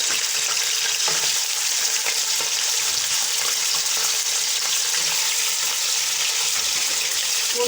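Pieces of gosht (meat) frying in a pot for degi aloo gosht, a loud, dense, unbroken sizzle with occasional stirring scrapes, close and without talk.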